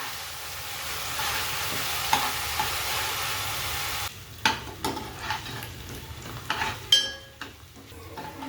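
Onion paste sizzles steadily in a pan with ginger, garlic and cumin added, then a spoon scrapes and stirs through it in uneven knocks and clatters against the pan.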